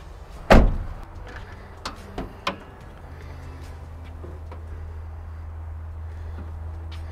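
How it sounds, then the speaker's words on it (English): Bonnet release on a Toyota Landcruiser 76 Series pops with one sharp, loud clunk near the start, followed by a few lighter clicks over a steady low hum, with no talking. "I'm gonna pop the bonnet"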